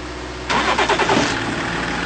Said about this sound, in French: Donc enlève la vitesse et essaye de la démarrer.